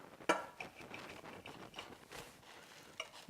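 A German pancake topped with three pieces of sausage is cut on a plate, giving a sharp cutlery clink near the start followed by softer scraping and tapping of utensils against the plate, close and fairly quiet.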